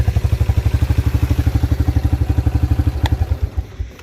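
A 1987 Yamaha Moto 4 YFM-350ER ATV engine idles after a cold start, a loud, steady, rapid single-cylinder putter with mechanical clatter that falters and fades toward the end.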